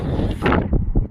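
Wind gusts across a beach on a changeable day, a loud, close, rumbling buffet against the microphone that lasts about a second and then cuts off.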